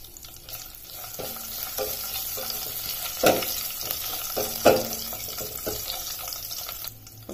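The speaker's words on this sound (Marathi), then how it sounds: "थोडंसं तेल कढईमध्ये, मोहरी, अर्धा टीस्पून जिरे, 1 टीस्पून तीळ" Mustard seeds, cumin, sesame seeds and curry leaves sizzle in hot oil in a kadhai, a steady close frying crackle with a few louder pops and stirring scrapes, no voices.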